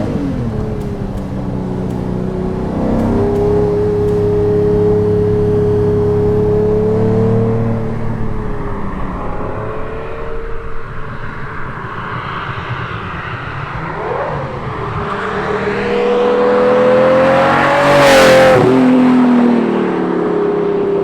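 A Lamborghini Diablo V12 revs and accelerates hard, its loud, tonal engine note sweeping up and down in pitch through repeated climbs and a final sharp rising surge, with no talking.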